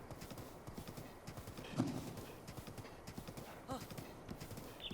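Heavy clip-clop hoofbeats from a giant horse in the video game The Legend of Zelda: Breath of the Wild, steady and close, with a brief whinny partway through and faint talk underneath.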